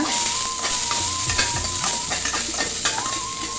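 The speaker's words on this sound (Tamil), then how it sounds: "கட் பண்ணி வச்சுருக்கிற ஒரு கப் அளவுக்கு வெங்காயம் போட்டுக்கலாங்க." Chopped onions with a little salt frying in a pan, a close, steady sizzle under repeated scraping and stirring strokes, with a faint high tone running through the background.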